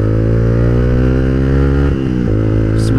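An old Yamaha Vixion motorcycle rides along a dark, empty road at night, its engine droning loudly and close with a steady harmonic hum, briefly dipping as a gear shifts before pulling again.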